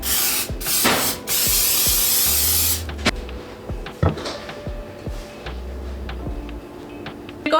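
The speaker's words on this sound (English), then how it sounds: "Spray it with cooking spray." Two short hissing bursts of cooking spray onto a pan, the second held for about two seconds, followed by light clicks and taps of a can and pan.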